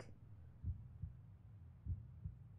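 A slow, steady heartbeat thumps in the video game Omori, each beat a low double pulse repeating about every 1.2 seconds over a soft background hum.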